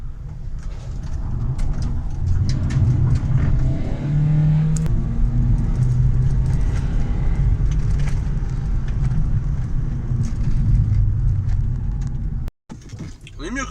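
A Renault Kangoo RS drives over rough, cratered ground, its engine rumbling low and steady with bumps and rattles, while people talk inside the cabin; the noise cuts out briefly near the end.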